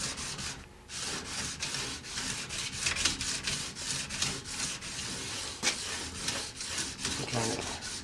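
Hand file rasping across a flat-clamped workpiece with water as lubricant, cutting off burrs in steady back-and-forth strokes, close and continuous with a few brief pauses.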